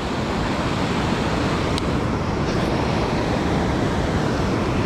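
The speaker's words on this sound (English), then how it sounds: "water is constantly flowing." The Great Miami River in Ohio rushes past in a loud, steady, broadband wash of flowing water that fills the whole span without a break, and no one speaks.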